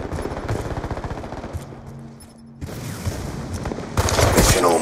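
Automatic sentry gun fire in Call of Duty Black Ops 2 rattles out in rapid bursts amid battlefield noise, pausing briefly before heavier gunfire and a loud burst near the end.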